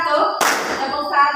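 One sharp hand clap cuts in during a classroom clapping exercise, a single bright smack over a voice speaking before and after it.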